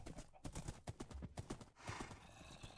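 Rapid, rhythmic hoofbeats of a galloping horse in Minecraft, close and fairly quiet, with a short snort or whinny-like sound partway through.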